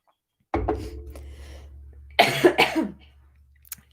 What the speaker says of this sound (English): got a decent cough